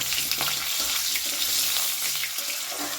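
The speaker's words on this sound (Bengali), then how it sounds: "দিয়ে দিলাম ডুমো করে কেটে রাখা আলু আলুটা একটু ভালো করে ভেজে নেব" Diced potatoes fry in a pan, giving a dense, steady sizzle up close with soft stirring scrapes and light clinks now and then.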